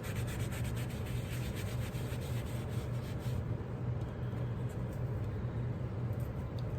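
A small brush scrubs paste into the nooks and crannies of a textured surface, giving a steady, continuous close-up rubbing with no breaks and no talking.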